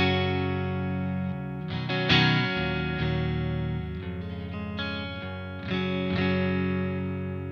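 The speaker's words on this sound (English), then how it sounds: "Okay, so that's how the Strat sounds." A Fender Stratocaster electric guitar played clean through a Soldano amp with a touch of reverb, a series of sustained chords and notes ringing out alone and fairly loud, each fading into the next.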